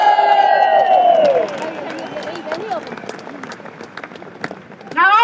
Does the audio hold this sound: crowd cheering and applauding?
yes